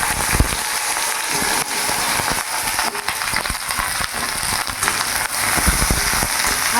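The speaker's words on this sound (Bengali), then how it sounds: "তেল গরম হয়ে গেছে। আমি এবার ভেন্ডিটা ভেজে নেবো।" Okra shallow fries in hot mustard oil on a medium gas flame, giving a continuous crackling sizzle with dense popping spatter that stays close and fairly loud, with no voices.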